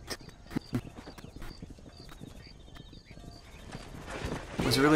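Horse hooves clip-clop in an uneven rhythm in the Red Dead Redemption video game, ending with a loud, close whinny. A voice talks briefly over the hoofbeats.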